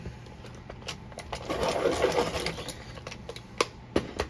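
A pencil is sharpened with a steady, close grinding whir that swells in the middle and then gives way to a few sharp clicks and taps at the end.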